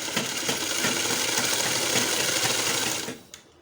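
Sewing machine stitching a designer kurti: a rapid, steady mechanical whirr with fast rhythmic needle ticks running for about three seconds, then stopping abruptly.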